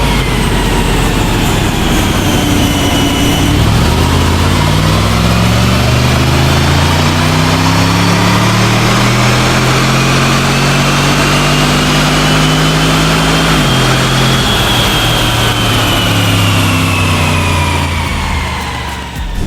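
Remapped Jaguar XFR strapped to a dyno, its engine roaring loud and steady through a long power run, pitch climbing through the gears with a brief dip before rising again, then easing off near the end.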